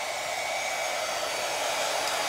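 A hair dryer blows steadily and close by, drying a tile-based pumpkin craft piece, a continuous even whoosh with no pauses and no talking.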